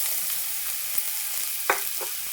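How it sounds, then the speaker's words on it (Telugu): Grated carrot fries in hot ghee with a steady, close sizzling hiss and a few soft stirring scrapes and pops, with no voices. "ఇప్పుడే ఇదే నెయ్యిలోకి ముందుగా తురిమి పెట్టుకున్న క్యారెట్ తురుము అయితే వేసేసుకోవాలి."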